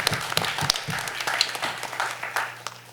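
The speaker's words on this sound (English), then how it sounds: "I think we should give him a big round of applause because he does a lot for us" Scattered clapping from a delegate assembly meeting, a loose patter of hands rather than a full ovation, steady and moderately loud across the room with a low hum underneath.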